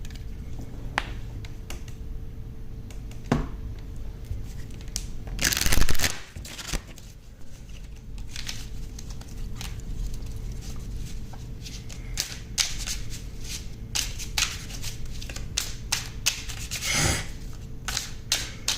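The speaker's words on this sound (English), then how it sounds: "so let me just shuffle." Tarot cards are shuffled repeatedly with soft, rapid riffling and flicking, punctuated by a louder riffle midway and another near the end.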